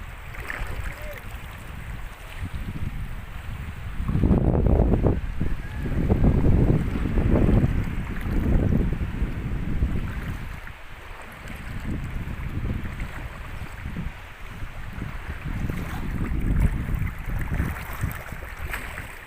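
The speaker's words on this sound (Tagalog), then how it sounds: "Nasa gilid yung bangka ni John Egor" Small outrigger boat out on open water, with a steady rushing of wind and water that swells and eases in waves, no voices heard.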